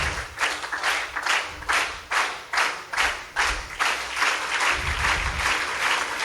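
A Carnatic music audience claps in unison in a steady beat, about a dozen sharp rhythmic claps spaced evenly, moderately loud with no talking.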